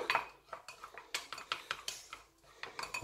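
A spoon scraping and clinking against a bowl while mixing coconut with flaxseed gel, with quick irregular taps and scrapes, close and fairly quiet, and no one talking.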